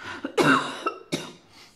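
Two or three harsh coughs in quick succession, close and fairly loud, with brief pauses between them.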